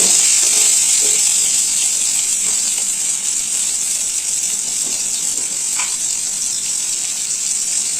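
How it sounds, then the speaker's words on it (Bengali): A tomato dropped into hot oil in a pan gives a continuous loud hissing sizzle that holds steady throughout, with no voices. "এরপর তেলের মধ্যে টমেটোটা ছেড়ে দেব।"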